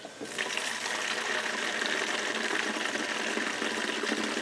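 Two-cycle gas mix pours steadily into a fuel can, a continuous close gushing, splashing flow that runs alone without talk.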